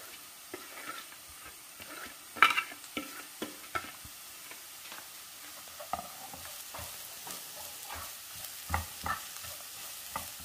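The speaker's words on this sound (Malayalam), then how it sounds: "അതിലേക്ക് അരിഞ്ഞു വെച്ചിരിക്കുന്ന കാബേജ് ചേർക്കാം" Chopped cabbage stir-fried in oil with turmeric, a quiet crackling sizzle broken by repeated spatula taps and scrapes in an uneven rhythm, close but fairly soft.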